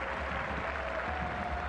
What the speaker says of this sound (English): Crowd giving a hand to Alvaro, who was forced out of the match in the 13th minute